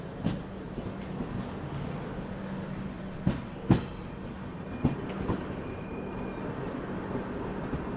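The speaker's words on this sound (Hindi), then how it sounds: "बीच में तो मालगाड़ी आ गई" A goods train passes between platforms at a station, giving a low steady rumble with a few distinct metallic clanks spaced apart, fairly faint and without talk.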